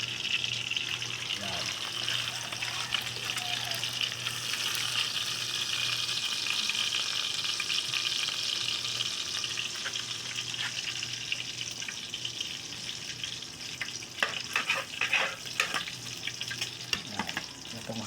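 Steady bubbling and hissing of food cooking in a pan, continuous and fairly close, with occasional clinks and stirring noises.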